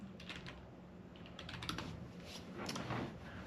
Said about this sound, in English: for those who are about to see this typing